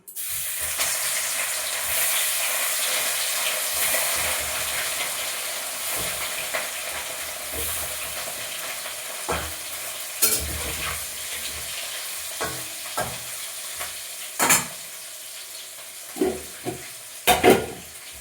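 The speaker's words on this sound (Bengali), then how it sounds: "দেখো মাছগুলো ভেজে নিচ্ছি" Fish frying in a pan, with a steady broadband sizzle throughout and several sharp clattering stirs and spatula scrapes toward the end, close and fairly loud with no talking.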